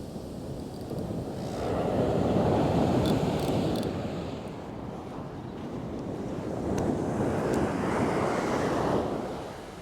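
Ocean surf breaks on a beach in two slow, swelling washes that rise and fade, with gusty wind buffeting the microphone and no speech.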